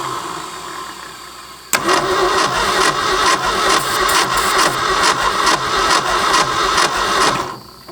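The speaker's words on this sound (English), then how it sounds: "See if we can get it crank over fast enough to fill up." An abandoned Ford F250 engine cranks over steadily for about six seconds, a loud, rhythmic starter churn with pulsing compression beats, then it stops without catching.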